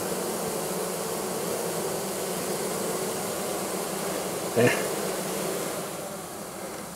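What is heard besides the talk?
honeybees buzzing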